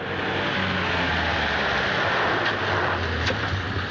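Tractor climbing straight up a mountain road in a 1936 comedy, a steady, loud low engine drone with rumbling noise, heard alone without voices.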